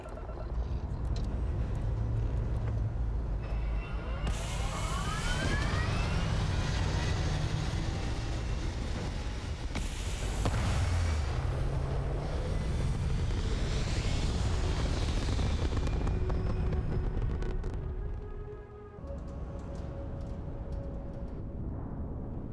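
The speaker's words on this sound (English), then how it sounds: "now we are flying our ship that we made" A spaceship in Starfield lifting off and flying, a loud roaring engine with rising whooshing sweeps and rumbling thrust that swells and shifts, then settles into a quieter steady drone.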